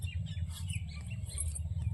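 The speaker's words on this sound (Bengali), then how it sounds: "পাখিদের কলরব" Birds chirp and call faintly in quick, scattered bursts in a green rural setting, over a low background rumble.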